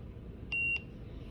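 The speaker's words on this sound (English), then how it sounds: "You heard it beep." A single short, high electronic beep from a handheld Epoc medical scanner, clear against a low background hum.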